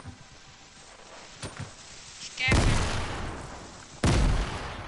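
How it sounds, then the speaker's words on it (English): Grenade explosions in the Fortnite video game: two heavy booms land about a second and a half apart, each a broad, loud blast that rumbles and decays, following quieter scattered game noise. "you use the grenades, throw them!"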